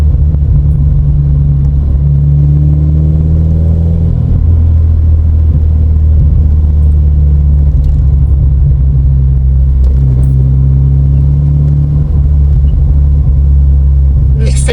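A Toyota MR2 Mk3 Roadster with a cat-back exhaust cruises with a deep, droning exhaust note that rises and settles as it changes speed, loud and close, with wind noise around it.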